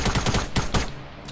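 Rapid bursts of automatic gunfire from a Fortnite match, several quick volleys in the first second then a short pause and a few more shots, loud and close.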